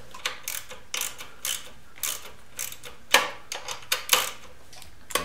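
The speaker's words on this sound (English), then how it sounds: "we tighten up the banjo bolt" A wrench ratcheting on the banjo bolt of a 1973 Honda CB750 front brake line, a run of small close metallic clicks in short irregular bursts, with a couple of louder snaps partway through.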